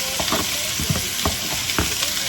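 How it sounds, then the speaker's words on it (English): Garlic and seasoning sauté in a pan for a quick red beans dish, a dense continuous sizzle with several scraping stirs, close and without speech. "So we're gonna do a little garlic. We're gonna do the seasoning that is sauteed."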